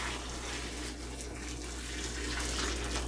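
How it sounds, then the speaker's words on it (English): Boiled water poured from a gallon batch over blackberries for homemade wine, a steady, rushing splash that stays even and moderately loud for a few seconds. "Just pour in enough to cover the berries."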